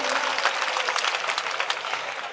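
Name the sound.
audience applause at a mushaira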